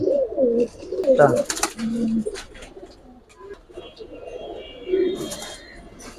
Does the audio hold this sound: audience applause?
no